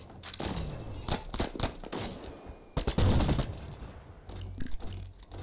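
Rapid gunfire in The Signal from Tolva video game, a dense series of sharp, loud shots coming in bursts with brief gaps, mixed with thumps and mechanical clatter.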